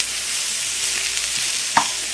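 Peppers and onions sauté in a pan with a steady, close sizzle and soft stirring, with one sharp scrape near the end and no talk.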